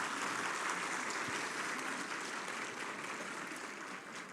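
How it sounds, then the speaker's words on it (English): A conference audience at a valedictory session gives Rinpoche a big round of applause, dense steady clapping filling the hall and tapering slightly, with no talk. "Can we please have a big applause for Rinpoche?"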